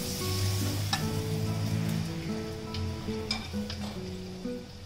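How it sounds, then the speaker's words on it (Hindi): Potato bondas for Mumbai-style vada pav fry in oil while pav bread toasts on a pan. A soft, continuous sizzle runs under a tonal hum, with a few sharp clicks and taps. "जब तक ये अच्छे गोल्डन ब्राउन कलर के ना हो जाए तब तक आपको इनको फ्राई करना है"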